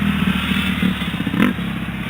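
A kid rides a dirt bike around a small sand circle track, the engine buzzing steadily nearby with a brief rise as it passes, plus light clattering.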